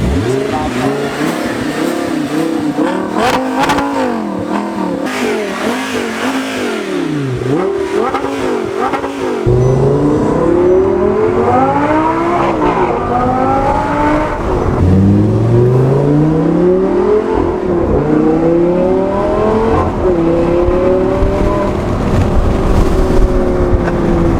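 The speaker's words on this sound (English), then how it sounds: "I'm gonna rev it up a bit, and I'm gonna turn the valve on while I'm revving it" An Audi R8 V10 with a straight-piped titanium IPE cat-back exhaust revs repeatedly, loud and close, its pitch climbing and falling in several blips, turning harsher and louder once the exhaust valve opens partway through.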